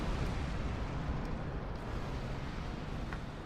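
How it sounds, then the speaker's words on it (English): Explosions rumble around a starship escaping in Star Trek Online, a dense, continuous roar of broadband noise with deep low rumble that stays loud and steady throughout, with no voices. "So as you're escaping, you'll have these explosions, and if you actually get caught in one, it can destroy your ship."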